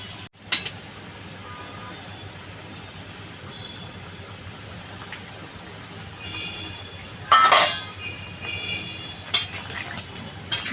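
A metal lid clanks down onto a cooking pot of tangra fish curry with potato and brinjal. The first sharp knock is followed by louder clattering handling sounds a few seconds later against a low, quiet kitchen background.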